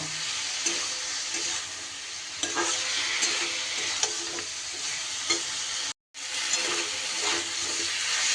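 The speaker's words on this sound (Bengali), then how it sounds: "এইবার সব কিছু সুন্দর করে কষিয়ে নেব।" Spices and winter vegetables being sautéed for a fish curry, a steady close sizzle with stirring scrapes throughout, broken by one brief silent gap near the end.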